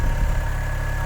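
A 2000 VW Golf Cabriolet engine idles steadily, a smooth, even low rumble with a faint mechanical hum, heard up close with no voices.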